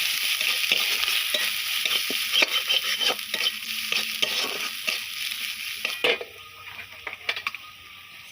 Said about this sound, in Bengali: হলুদের গুঁড়ো লবণ সামান্য পরিমাণ চিলি ফ্লেক্স ভালোভাবে মশলাগুলোকে কষিয়ে নেবো